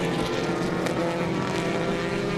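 BMW race cars battling on a track, a loud, continuous engine drone close by with a steady roar and slight pitch shifts, and no talking heard.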